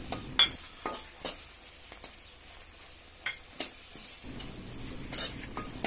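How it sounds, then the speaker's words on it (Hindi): Green chillies and chopped coriander stirred in a pan, a spoon scraping and clinking in irregular strokes over a soft sizzle, close and alone with no talk. "अब धनिया डालकर अच्छे से मिलाएं।"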